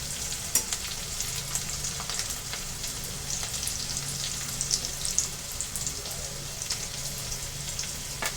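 Green chillies sautéing in a hot pan for a methi bhaji, a steady close sizzle and crackle of frying with faint stirring scrapes, no voices.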